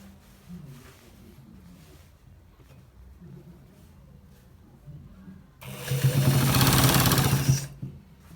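Sewing machine stitching part of a designer shirt, a loud fast burst of stitching near the end after quieter background noise.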